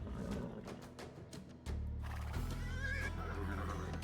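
Horses from the video game Age of Empires 2 neigh and whinny in a dense layer of game sound, with hoof clip-clop and other unit noises over steady background music; no one talks.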